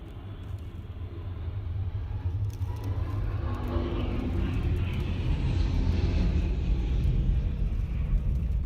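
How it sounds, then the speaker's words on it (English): Airplane coming in to land in a storm with heavy winds, a continuous engine roar and low rumble that swells gradually louder over several seconds. "This plane is struggling to land in a storm."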